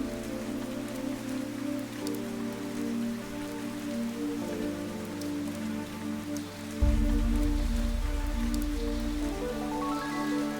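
Steady rain pours across a scene in the game Fantasian Neo Dimension, an even wash of falling drops beneath sustained musical tones, growing heavier and denser partway through.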